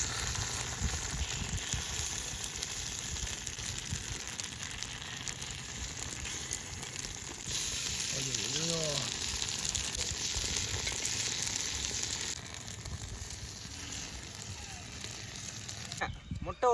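Egg sizzling steadily in an oiled kuzhi paniyaram pan over a village fire, a constant close frying hiss with a slightly louder stretch partway through and a brief clink at the end; no talking.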